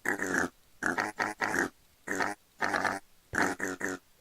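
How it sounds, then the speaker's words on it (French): Pigs in Minecraft grunt and oink in a rapid series of separate snorting bursts, loud and close, with short gaps between them. "Donc je vais faire spawn les cochons."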